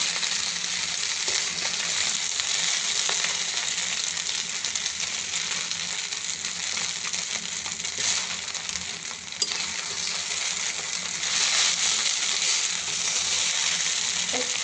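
Kokola noodles fry in a pan with eggs, onion and green chili, giving a continuous loud sizzle with occasional stirring scrapes and no voices.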